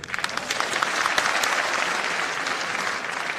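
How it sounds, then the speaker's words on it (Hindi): Steady, full audience applause at a teachers' honouring ceremony, dense clapping from a large crowd that swells slightly and then holds without speech over it. "ये ट्रांसफरों से भी ज्यादा तालियां बजिए साहब"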